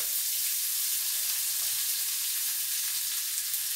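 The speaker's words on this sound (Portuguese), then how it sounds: "Tô dourando o alho, ó. Agora eu vou botar o couve." Chopped garlic browning in hot oil in a pan, with collard greens about to go in, gives a steady, even hiss of sizzling that holds at one level throughout with no talking.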